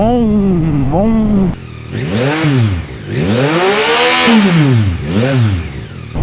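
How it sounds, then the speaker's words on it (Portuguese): An inline three-cylinder motorcycle engine is blipped repeatedly up close: one short rev, then three rising and falling throttle sweeps, the longest in the middle, with idle dips between. "o motor 3 em linha não me chama muito, ok? É um motor demasiado linear, tem um som demasiado linear"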